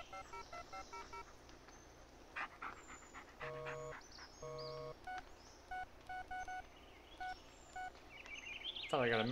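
A phone message notification plays during a walk in the woods, a series of short electronic tones in quick succession, alongside a dog panting and sniffing nearby, with someone speaking briefly.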